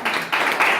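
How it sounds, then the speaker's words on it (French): A festival audience in Cannes claps in brief bursts, a close, loud wash of hands lasting under a second with no voices. "d'ailleurs, on peut l'applaudir"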